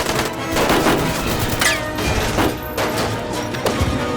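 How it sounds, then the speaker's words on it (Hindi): Rapid bursts of gunfire crackle over a loud, dense background of crashing and rumbling, with sharp reports scattered through the clip. "ओए गोली चला रहे हैं ये लोग तो।"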